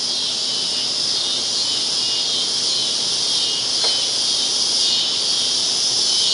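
Cicadas buzz in a Houston neighbourhood on a hot evening, a dense, steady high-pitched drone that fills the air evenly from start to finish, with no one speaking.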